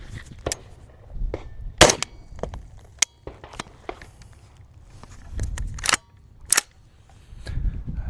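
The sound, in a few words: three unsuppressed 5.56 rifle shots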